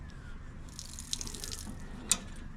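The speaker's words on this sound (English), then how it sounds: "This is the tap that gets water out of it," Water trickles and drips from the tap of a 50-litre gravity-fed tank mounted under the floor of a 2006 Toyota Hilux extra cab, faint and close, with a brief louder splash near the end.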